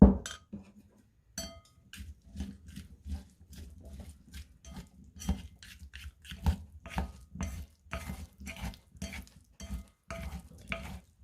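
Chopsticks mixing a Chinese cucumber salad in a bowl, a run of quick irregular clinks and wet stirring taps against the dish, close and fairly quiet, with no one talking.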